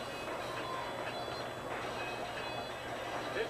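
A train in an animated Mario cartoon, heard as a steady, fairly quiet rolling rumble with faint rhythmic clatter running the whole way through.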